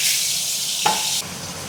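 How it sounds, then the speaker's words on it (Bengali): Two tilapia fish fry in hot oil, giving a loud, steady sizzling hiss that shifts slightly partway through as the fish settle in the pan. "এবার এই যে তেলাপিয়া মাছ দুটো ভেজে"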